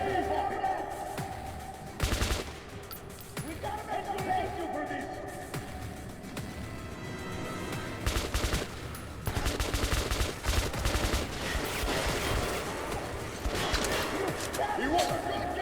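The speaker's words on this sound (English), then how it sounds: "I'll snipe with an assault rifle if that's what it takes" Assault rifle fire in Metro: Last Light Redux, loud sharp bursts and single shots scattered across the stretch over a noisy combat backdrop, with voices talking at times.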